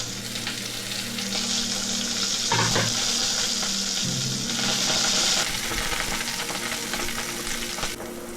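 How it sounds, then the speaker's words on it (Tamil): Onions and curry leaves fry steadily in hot oil, a continuous close sizzle with occasional stirring scrapes and a brief splash near the end. "இப்போ ஆனியன்ஸ் நல்லா கோல்டன் ஃப்ரைடில் வந்துடுச்சு"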